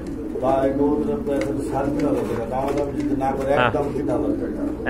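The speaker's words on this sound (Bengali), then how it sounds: "আপনার পেছনের এইটা হচ্ছে আপনার নট কবুতর, আর যেটা ছটফট করতেছে ওটা মাদি কবুতর" Pigeons, including Budapest high flyers, coo in soft repeated bursts nearby while people talk over them.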